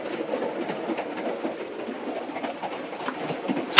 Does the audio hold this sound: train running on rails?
yes